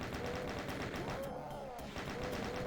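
Shotgun shells fired at Arachnotrons in Final Doom, with repeated blasts over a dense, constant din of game combat noise. Enemy sounds chirp and warble through the mix.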